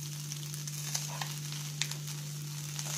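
Nettali (anchovy) fish frying gently in a pan, a steady soft sizzle with small crackling pops scattered through it, close up and without speech, over a constant low electrical hum.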